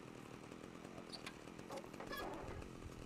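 A chainsaw left running in the video game Manhunt drones faintly and steadily throughout, a low buzzing engine hum in the background.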